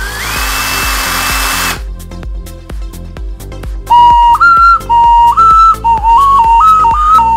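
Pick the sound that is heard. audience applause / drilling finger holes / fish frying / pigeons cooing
drilling finger holes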